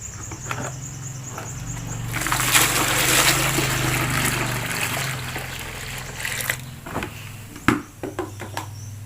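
Three liters of clean water pours steadily into a container for several seconds, a rushing splash that tapers off into trickles and a few knocks.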